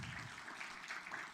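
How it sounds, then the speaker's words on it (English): A brief burst of steady audience applause at a symposium closing ceremony, even and continuous, with no voices over it. "We applaud you."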